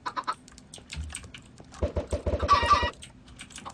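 Chickens in Minecraft give a few soft clucks, then a quick run of computer keyboard typing rattles alongside them, all fairly quiet with no voices.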